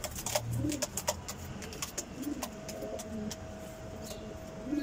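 A group of pigeons, including German homing pigeons, coo in low repeated rumbling calls throughout, with sharp wing and movement clicks and a faint engine hum in the background.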